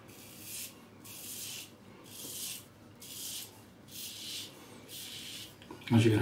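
Hand rubbing over rough, unshaven facial skin after a brush lather, heard as five rhythmic scratchy strokes, close and steady, ending in a brief louder knock.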